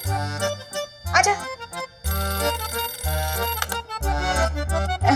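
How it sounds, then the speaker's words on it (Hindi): A phone rings with a loud, melodic electronic ringtone, a repeating tune of tones. "नैना जा फोन उठा"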